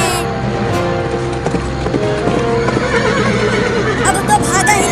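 A horse gives a loud whinny, with a clip-clop of hooves and some creaking mechanical noise running underneath throughout.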